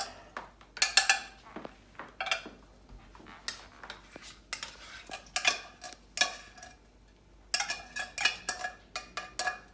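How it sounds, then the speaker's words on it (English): Minced clams go into a pan for linguine with clam sauce, with repeated clinks and clatters of a utensil against the pan. The knocks come in quick irregular bursts, close and fairly quiet, with no talking. "going to now throw in the clams to here"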